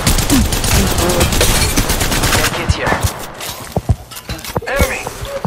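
Rapid continuous gunfire from the Apex Legends Mobile video game, loud dense bursts that thin into scattered single shots with footsteps and effects mixed in.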